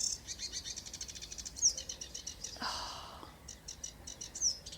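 A songbird sings at a nature reserve in spring, a rapid, repetitive high trill of chirps with a brief pause midway, moderately distant and faint against soft outdoor ambience.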